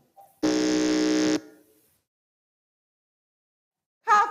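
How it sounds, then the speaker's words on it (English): A quiz competition buzzer gives one loud, steady electronic tone lasting about a second, then silence. A second brief buzz starts right at the end. "may we hear the buzzer from Crown Prince Academy."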